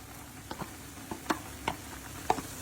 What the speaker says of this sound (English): Give it a good mix up